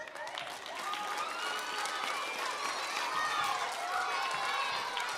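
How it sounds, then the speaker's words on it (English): Applause for the teacher fills a school performance hall, many hands clapping steadily throughout with a lively crowd and children's voices mixed in. "Give our teacher a big round of applause."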